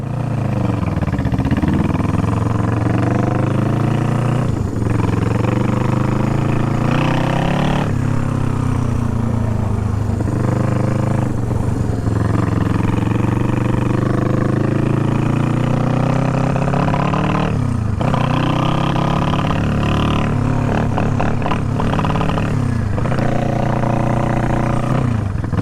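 A revived motorcycle engine runs loudly and steadily on a test ride, its pitch rising and falling with throttle changes and occasional clattering, no talk over it.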